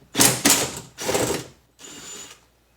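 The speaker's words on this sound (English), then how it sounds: "So let's unscrew the motor. We got for the motor these 3 bolts right here." Window regulator motor bolts on a Pontiac Grand Am are unscrewed, with three short whirring bursts of a power driver, close and loud, separated by brief pauses.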